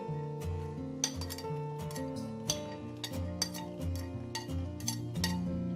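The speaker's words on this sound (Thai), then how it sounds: "เราก็มาตำน้ำจิ้มทานคู่กับกุ้งอบเส้นนะคะ กระเทียมไทยนะสองช้อนค่ะ" Thai garlic pounded in a mortar for a dipping sauce to go with baked shrimp and glass noodles, a steady series of sharp knocks and clinks, some ringing against the bowl.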